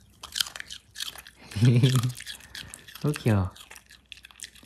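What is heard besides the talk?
pet chewing a treat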